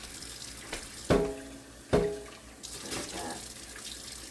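Tap water running into a measuring cup for vinegar pickle brine in a home kitchen, with two splashing pours and steady flow noise, a brief voice heard over it.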